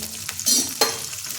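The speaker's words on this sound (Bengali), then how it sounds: "লবণ দিয়ে বিনসগুলো ভেজে নিচ্ছি।" Green beans fry in oil with salt, giving a short burst of sizzle with two quick scraping stirs against the pan, close and fairly loud, without any talk.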